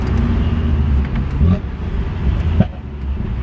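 A BMW car accelerates with its exhaust popping and banging, a loud engine roar broken by a few sharp cracks, heard close up.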